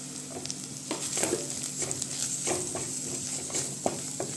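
Onions and chili powder fry in a pan while being stirred, giving a soft, continuous sizzle. Scraping strokes come through at a fairly regular pace, close by and with no voices.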